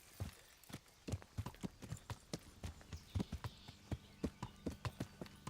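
A horse in Kingdom Come: Deliverance walks with distinct, evenly spaced hoof clops, close and fairly crisp against quiet game ambience.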